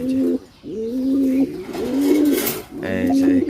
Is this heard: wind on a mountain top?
no